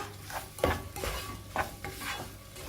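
A utensil stirs dates sautéing in oil in a pan for a lemon and date pickle, giving repeated scraping strokes over a soft, steady sizzle close up.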